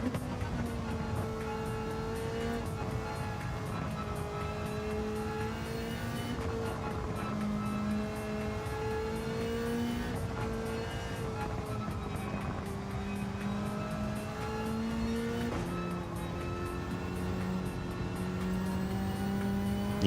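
Race car engine in a sim racing game, a loud, continuous engine whine that rises through the gears and drops sharply on each shift, repeating over and over without a break.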